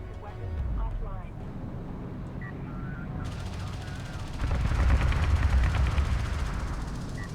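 Anti-air fire at gunships in a strategy video game: dense rapid automatic fire rattles continuously, growing louder and heavier midway, with a person talking over it.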